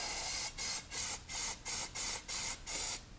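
Short bursts of parts cleaner hissing from an aerosol can, about eight quick sprays in a steady rhythm with brief pauses between them.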